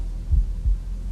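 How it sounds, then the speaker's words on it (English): A low, muffled heartbeat thumps twice in a steady slow rhythm, heavy and close over a faint hum, in a tense psychological horror short film. "I could hear her heartbeat filling the room"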